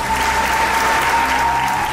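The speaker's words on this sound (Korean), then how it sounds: "뜨거운 박수와 함성으로 동의를 표한 참석자들" A large audience at a ceremony in São Tomé and Príncipe gives loud, dense, sustained applause, a continuous close wash of clapping with no pauses.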